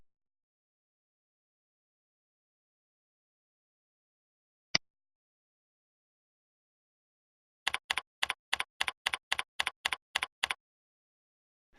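Typing a username and password on a computer keyboard in a quiet room: one lone click, a pause, then a quick even run of about a dozen crisp keystrokes.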